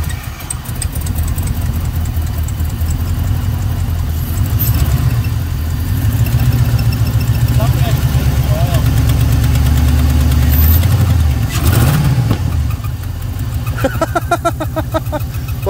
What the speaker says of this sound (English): This is try number one of firing up the Yukon.